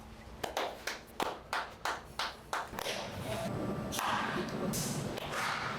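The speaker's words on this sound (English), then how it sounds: "And you clap for me." A single pair of hands claps about nine times in a quick, even rhythm, close and crisp, then the sound turns into a denser spatter of clapping from several people.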